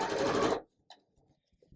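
A sewing machine stitching fabric strips together for a beginner's quilt made from pre-cut fabrics, running in a loud steady burst for about half a second, then stopping, followed by faint handling sounds.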